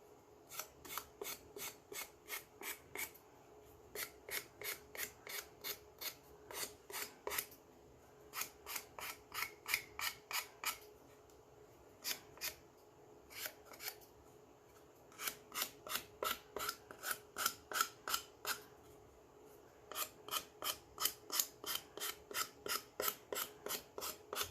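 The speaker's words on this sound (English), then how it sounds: "it almost sounds like it's hollow when I'm filing" A file rasping rhythmically across a decoupage craft piece with a somewhat hollow tone, producing rapid bursts of back-and-forth strokes with brief pauses between them, close and clear with no talking.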